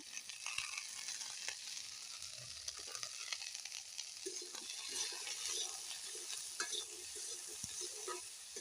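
Flat beans (shim) with salt and turmeric powder stirred in a pan, giving a soft continuous sizzle with scattered scraping and clicking stir sounds, close and moderately quiet, no talking.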